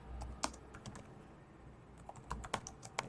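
A search query typed on a computer keyboard, quick irregular bursts of crisp key clicks at close range, with a short pause in the middle.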